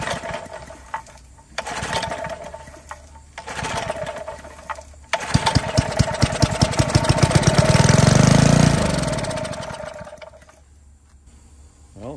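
Small barn-found Briggs & Stratton engine running after fuelling, starting in short sputtering bursts, then catching into a loud rapid firing rhythm that builds and fades away.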